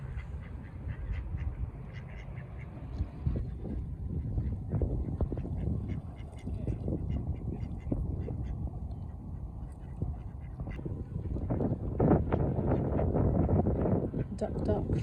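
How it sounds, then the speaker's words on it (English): Ducks quack by the water in Stockbridge alongside crows being fed snacks, their calls mixed with wind noise on the microphone while a person talks over them. "Crows and ducks have been having a great time with all the snacks."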